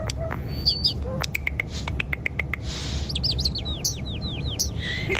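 A bird chirps close by in rapid bright tweets and sliding whistles, with a series of quick chirps, over a low steady background hum.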